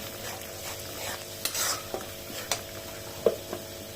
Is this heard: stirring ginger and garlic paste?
yes